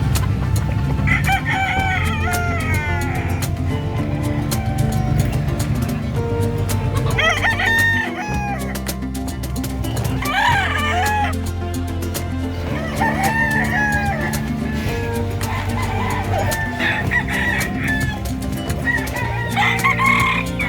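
Fighting cocks at the livestock market in San Carlos City, Pangasinan crow over and over, their calls rising above a loud, dense, continuous background din.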